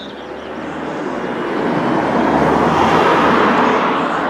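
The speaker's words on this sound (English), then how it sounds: "there's a load of vehicles out and about already" Vehicles pass by on the road in Winchelsea at 5:15 in the early morning, a steady broad traffic roar that swells louder as one draws near, with no talk.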